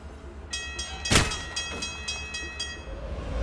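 Train in the Alpha Protocol video game, a steady rumbling roll with a sharp loud burst near the start and a row of bright tonal squeals or whistle-like tones above it, continuous throughout.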